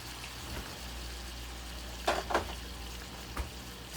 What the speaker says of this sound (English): you're just going to sit there and let that simmer